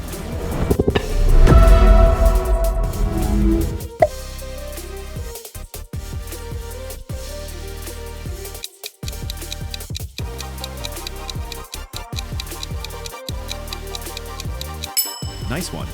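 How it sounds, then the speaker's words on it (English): Hulu streaming logo sound, upbeat and musical, opening with a loud bright swell and then bouncy tonal notes with short gaps and pings over a steady bed, no talking. "That is Hulu."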